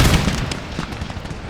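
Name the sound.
artillery fire in Empire Total War video game battle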